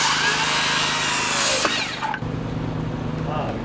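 A power saw cuts through framing lumber during wall framing, a loud, dense rasp for the first second and a half before it cuts off, followed by quieter jobsite noise and a low steady hum.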